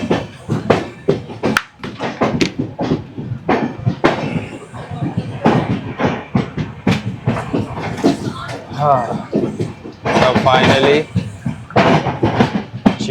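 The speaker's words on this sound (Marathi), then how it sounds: "चिपळूणमधून गाडी जी आहे ही डिपार्चर झालेली आहे, निघालेली आहे" The Janshatabdi Express pulls out of Chiplun station on the Konkan Railway in monsoon weather, rhythmic clickety-clack of wheels over rail joints heard close from inside a coach, with someone talking over it throughout.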